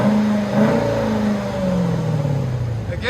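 A Jeep Grand Cherokee SRT with a 6.4L HEMI V8 and aftermarket exhaust revs hard, the loud engine note climbing and falling through a sustained rev, then rising again at the end.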